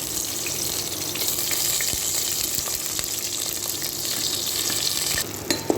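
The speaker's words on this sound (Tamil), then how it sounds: "இது கூடவே நம்ம ஸ்டஃப் பண்ணி வச்சுருக்கிற அந்த கத்திரிக்காயை போட்டுக்கலாம்." Stuffed brinjals fry in oil for a wedding-style spicy gravy, a loud, continuous crackling sizzle that dips briefly near the end with a couple of clinks.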